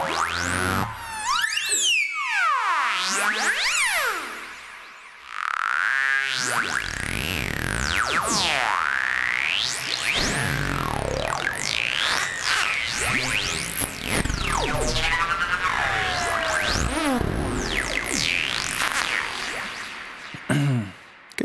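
A Sylenth1 synth atmosphere called Orbital Chaos from a psychedelic preset pack sweeps through swirling, pitch-bending tones, with arcing rises and falls and shimmering textures over a sustained drone, loud and continuous with a brief dip near the start.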